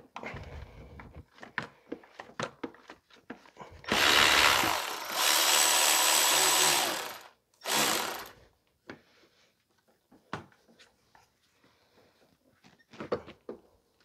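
Power tool or ratchet work on a 2005 Toyota Corolla, removing bolts during engine oil dipstick tube replacement: two loud sustained whirring bursts, one about three seconds and a shorter one after, framed by scattered metallic clicks and clunks nearby.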